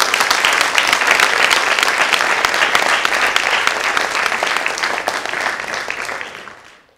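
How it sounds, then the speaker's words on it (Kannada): An audience at a harmonica and music concert bursts into warm, sustained applause for a young performer, many hands clapping loudly and evenly before fading out over the final second. "ಉತ್ತುಂಗಳನ್ನು ಚಪ್ಪಾಳೆಯೊಂದಿಗೆ ಸ್ವಾಗತಿಸೋಣ"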